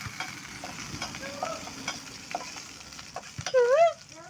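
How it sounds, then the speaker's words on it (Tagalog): Onions sauté in a hot frying pan, a soft sizzle broken by repeated scrapes and taps of a utensil stirring, with a brief squeak near the end. "Mikos-mikosin na natin si sibuyas"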